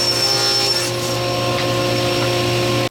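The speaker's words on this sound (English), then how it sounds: "I'm going to install a crosscut blade in my saw, and I'm going to cut off this section here" Power tool running steadily on wood: a table saw fitted with a crosscut blade trimming a maple blank, a continuous loud whine with a sustained motor tone that stops abruptly at the end.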